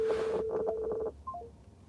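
A phone being dialed inside a truck gives a run of rapid keypad tones, then a short descending three-note tone, all fairly close and clear with no talking.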